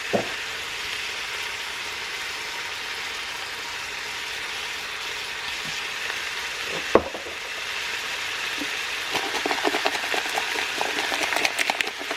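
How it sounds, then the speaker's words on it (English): Ground beef seasoned with garlic powder, Italian seasoning and onion powder browning in a pan, a steady close sizzle with occasional scraping stirs, growing busier toward the end, no talk. "So I'm just going to brown this up and I'll be right back."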